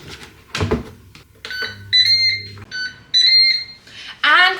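A Ninja Speedi air fryer sounds a series of loud, sharp electronic beeps as cooking finishes, each beep a short steady tone with brief gaps between them, and some quiet background noise around them.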